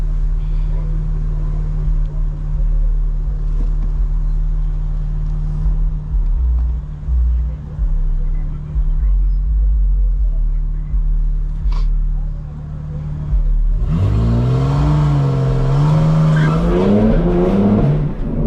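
A modified 2024 BMW M4 Competition rumbles with a low, loud engine drone, then launches in all-wheel drive, its revs climbing sharply and roaring for the final few seconds.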